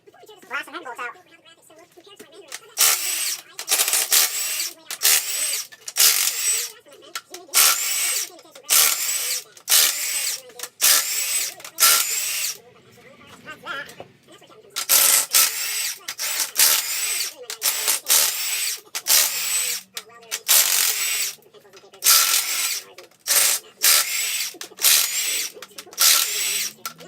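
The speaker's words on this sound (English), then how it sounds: "And let's blast some head bolts out." A power tool, likely an impact wrench, removing the cylinder head bolts from an engine: repeated loud bursts of buzzing hammering separated by short pauses, close by, with someone talking between and over the bursts.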